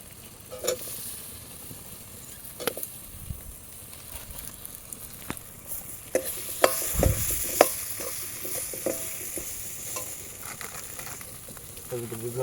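Potatoes sizzle in hot oil in a pan at an outdoor picnic cooking spot while a spoon stirs and scrapes intermittently. Background chatter and ambient noise run underneath.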